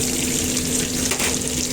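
Garlic frying in a pan while cooking a spicy fish dish with cream sauce, giving a steady, close sizzle with no pauses through the short stretch.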